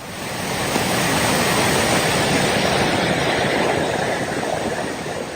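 A swollen mountain waterfall pours as a furious torrent over the last stretch of a path near a meditation cave at Jarung Mard, a steady, dense roar that rises and holds with no voices.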